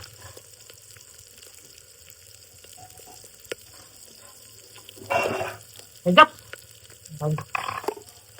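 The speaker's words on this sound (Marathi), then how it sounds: "आता काय कढीपत्ता टाकायचा. कढीपत्ता." Curry leaves dropped into hot oil for a Marathi-style brinjal dish, setting off a few short bursts of sizzle and spatter. Near, and separated by quiet stretches.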